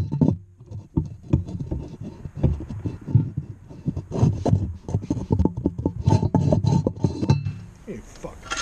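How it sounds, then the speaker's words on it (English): Rough, rhythmic scraping from an angled scraper blade tacked onto equipment at a DIY biodiesel plant teardown, repeated gritty strokes with clattering, fairly close, while someone talks over it. "We'll find out if it's going to scrape any better than what I was doing by hand."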